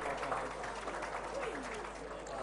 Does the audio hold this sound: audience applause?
yes